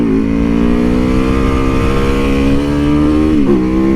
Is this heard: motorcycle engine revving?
yes